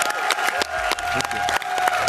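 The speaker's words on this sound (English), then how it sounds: "Can we give everyone a round of applause?" Audience applause fills a hall at an Xbox showcase event, dense clapping mixed with crowd noise and faint cheering, steady and fairly loud throughout with a few sharper claps standing out.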